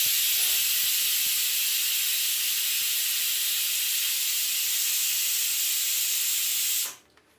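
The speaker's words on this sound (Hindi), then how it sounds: "इधर अब कुकर में भी सीटी लगने ही वाला है" A pressure cooker with rice inside whistles, letting off a loud, steady hiss of steam that holds at full strength for about seven seconds before cutting off abruptly, with no voices over it.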